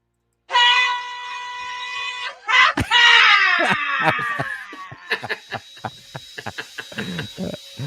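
Screaming sound effect opens with a loud, sustained shrill scream, then gives way to laughter and chuckling with scattered sharp bursts, all close and loud.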